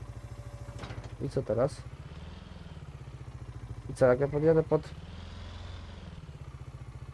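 Tractor engine idling in Farming Simulator 22, a steady low rumble running throughout, with a voice talking over it in two short bursts.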